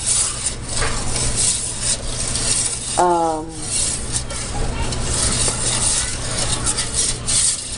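Homemade liquid laundry detergent stirred in a container, a continuous loud rubbing, scraping swirl with a steady low hum underneath and a brief tonal squeak midway.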